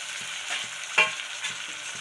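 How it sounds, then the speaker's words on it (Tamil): Thinly sliced tomato stirred into onions frying in a pan, a soft steady sizzle with a brief clink of a spoon against the pan midway. "இதையும் சேர்த்து நல்லா கிளறிக்கலாம்"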